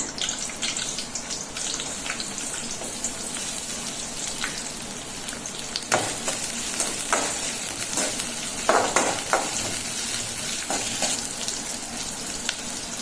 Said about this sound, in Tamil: நீல வாக்கில் கட் பண்ண வெங்காயத்தையும் எண்ணெயில் போட்டுக்கிறேன்